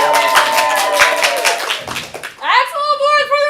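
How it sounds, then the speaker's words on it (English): A live comedy show audience claps and cheers loudly for the red team, with a dense burst of applause and children's shouts, then a rising whoop and yelling near the end. "now cheer for the red team"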